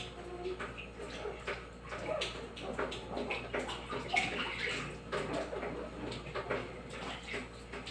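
A newborn baby gets a first bath at home in a small tub, with soft, intermittent water splashing and sloshing close by while adults talk.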